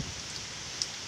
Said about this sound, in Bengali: প্রচুর বৃষ্টি হইতাছে আর প্রচুর বাতাস।